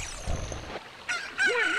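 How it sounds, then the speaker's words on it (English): Chicken in The Legend of Zelda: Ocarina of Time giving a few short clucks and squawks in the second half, following a low rumbling game sound, fairly faint. "Hey, there's the chicken."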